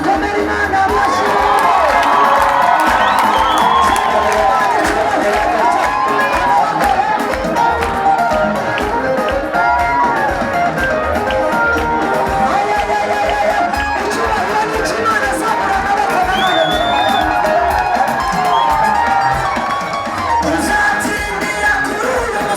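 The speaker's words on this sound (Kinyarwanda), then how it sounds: "abamushaka bakomera Imana amashyi" A large congregation at an outdoor prayer gathering for Burundi cheers and calls out in a dense, sustained roar of voices and whoops that stays loud throughout, with clapping buried in the crowd noise.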